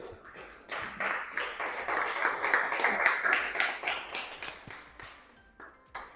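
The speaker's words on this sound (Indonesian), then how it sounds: "Kita berikan tepuk tangan untuk kelompok 1" A small audience claps for a presenting group at a teacher-training performance test, scattered individual hand claps rising into a brief uneven round that thins out toward the end, fairly close and dry.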